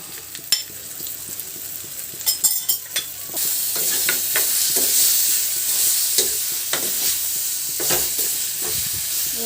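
Mashed roasted eggplant being stirred together with egg in a frying pan: a few sharp spatula knocks first, then a steady sizzle with repeated scraping strokes, close and fairly loud, with no voices.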